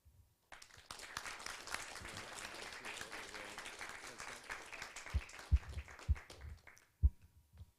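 Audience at the VIII Mongolia Forum in Ulaanbaatar applauding to adopt a declaration: a moderate, fairly distant round of clapping that fades into a few scattered louder claps and thumps near the end.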